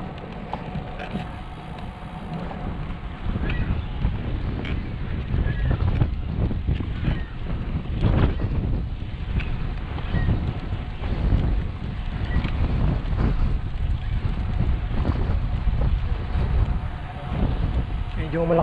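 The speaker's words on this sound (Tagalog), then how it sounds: "Medyo malakas lang ang hangin." Strong wind buffets the microphone with a steady, heavy low roar throughout, beside a lakeshore path with a lighthouse in Toronto, with no clear talk over the rumble.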